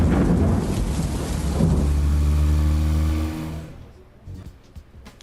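Rain pours down on a car as it is driven through the wet, a broad hiss layered over a steady engine drone that fades out after a few seconds, leaving sparse drips and knocks.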